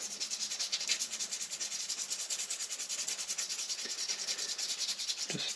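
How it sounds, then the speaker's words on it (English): Emery cloth rubbed back and forth over the clutch plate of a Partner 370 two-stroke petrol chainsaw, a steady close scratchy sanding with continuous rhythmic strokes and no talk. "Just get a bit of sandpaper"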